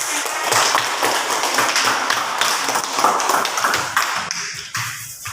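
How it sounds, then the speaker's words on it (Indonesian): A classroom of students claps for a student group after a presentation, a dense continuous patter of hand claps holding steady before thinning toward the end. "sekarang beri tepuk tangan untuk kelompoknya dari Silva"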